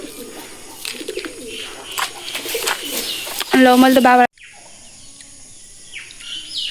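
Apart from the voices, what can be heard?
birds calling, pigeons cooing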